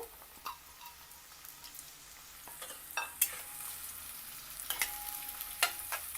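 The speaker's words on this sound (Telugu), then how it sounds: "ఇప్పుడు ఒక మూకుళ్ళో నూనె వేసి వేడి చేయాలి నూనె వేడెక్కిన తర్వాత మనం తరిగి ఉంచుకున్న ఉల్లిపాయ ముక్కలు వేసి వేయించుకోవాలి" Chopped onions frying in hot oil in a pan make a faint, steady crackle, with scattered soft pops and spoon scrapes that grow busier toward the end.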